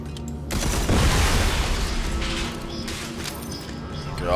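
Explosions roar in Red Faction: Armageddon as things get blown up, a loud sustained blast with debris rumble swelling after a sharp onset and lingering under faint game effects.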